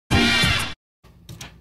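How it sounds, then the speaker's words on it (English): A single bright, punchy brass stab sample in a hip-hop beat production, one loud sustained hit cut off sharply, followed by a quieter second hit after a short silence. "I got this brass stab that I'm gonna put on the one that sounds like this."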